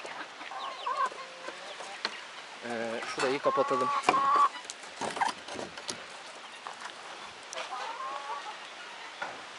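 Young white guinea fowl give repeated chirping and clucking calls nearby, mixed with soft rustling, while a person talks briefly.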